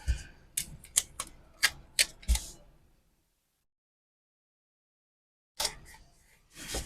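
Scissors snip through planner paper in a quick run of about eight sharp, close cuts, then a pause of silence before a few more snips.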